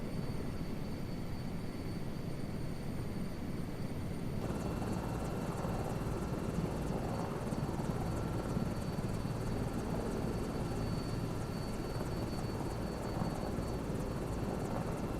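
Air Crane helicopter in Microsoft Flight Simulator 2024 gives a steady, loud rotor and turbine drone that holds throughout, with a slight shift in tone partway through and no voices.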